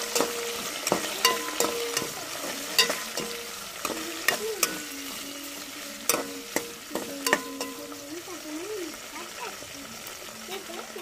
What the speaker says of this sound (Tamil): வெங்காயம் தக்காளி பச்சை மிளகாய் எல்லாமே வதங்கி வந்துருச்சுங்க.